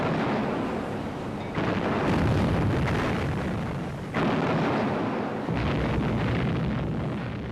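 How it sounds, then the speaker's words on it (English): Huge explosion as a shell strikes the battleship Hood, a loud sustained roaring blast with rolling rumble and repeated booming surges, no voices. "There was a huge explosion."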